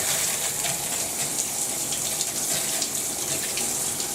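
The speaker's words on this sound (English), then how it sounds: "I'm going to turn on the cold water, and we'll see what this thing looks like" High-pressure VOOLAN rain shower head spraying cold water, a loud steady gushing hiss of dense spray hitting below, continuous and unbroken with no talking.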